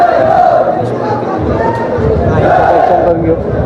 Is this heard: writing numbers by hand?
no